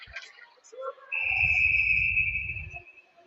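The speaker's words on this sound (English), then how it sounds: "we got a whistle as the puck comes up" A referee's whistle at a boys' junior varsity ice hockey game sounds one sustained shrill blast of about a second and a half, clear over rink noise, with a commentator's voice before it.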